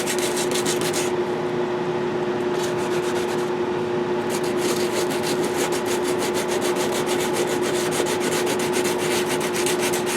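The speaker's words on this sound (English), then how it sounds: "Goes through the upper layers of paint pretty fast, saving you trouble that it would take if you did 300 or 200 grit." Sandpaper scrubs steadily over a painted helmet, taking off the upper layers of paint, a close, continuous abrasive rasping that keeps going with no pauses and no voices.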